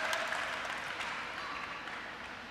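A crowd applauds at a table tennis match at the Singapore Smash, a dense, steady clatter of clapping from many hands filling the arena.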